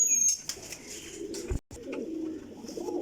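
An old desi pigeon coos softly at close range in a brief, low, murmuring call, with light rustling and a short sharp break partway through.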